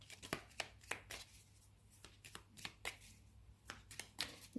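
Tarot cards are shuffled and drawn close by at a quiet table, a series of sharp riffling snaps and soft slides at an irregular rhythm, about a dozen distinct bursts, with no talk over them.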